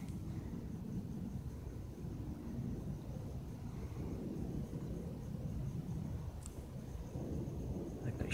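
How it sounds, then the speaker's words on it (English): A jumbo jet passes overhead at night, a faint, distant, steady low rumble with a soft wash of broadband noise and no voices. "There's a dipshit in a jumbo jet looking at me."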